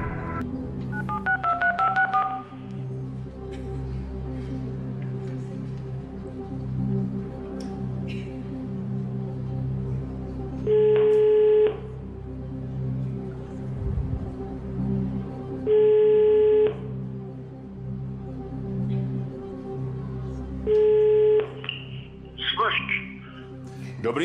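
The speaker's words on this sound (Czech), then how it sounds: "Prosím režii, aby vytočila pana profesora Smrže." Touch-tone telephone dialing on a TV quiz show studio, with bursts of DTMF tones and periodic ringback tones repeating at regular intervals under a low studio hum and occasional voices.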